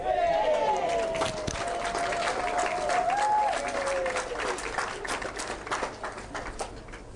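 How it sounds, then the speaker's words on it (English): Spectators at an indoor lawn bowls singles and fours final applaud a shot, brisk clapping that gradually thins and fades, while a commentator speaks over it. "That applause was for a great shot from the Jersey skip, Gus."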